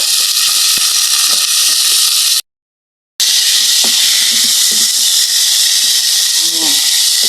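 Chayote pieces sizzle and hiss loudly in a pan of sautéed garlic, onion and tomato, a constant close frying sound broken by a brief silence, with soft stirring clinks.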